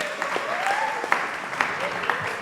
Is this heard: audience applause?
yes